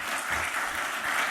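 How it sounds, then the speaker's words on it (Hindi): Short burst of applause from an audience welcoming performers onto a stage, a continuous wash of clapping at moderate loudness with no speech. "दर्शकों से अनुरोध है कि तालियों से इनका स्वागत करें।"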